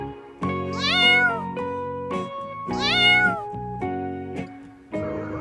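A cat meows loudly twice, long drawn-out calls close to the microphone, each followed by shorter trailing sounds.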